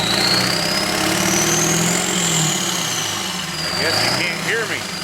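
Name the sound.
1946 Ford engine idling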